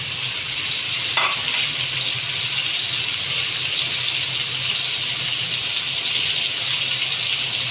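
About three bay leaves with cinnamon and cardamom sizzle in hot oil for a mutton and chana dal curry, a loud, continuous frying crackle with no talk.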